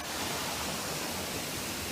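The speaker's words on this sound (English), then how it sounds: "Look at this giant waterfall." A giant waterfall in Baños, Ecuador roars as a dense, unbroken rush, loud and even from start to finish with no voices.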